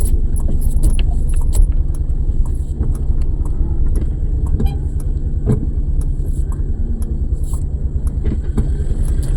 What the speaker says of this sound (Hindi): चलिए मैं गाड़ी पहले बैक कर लेती हूँ।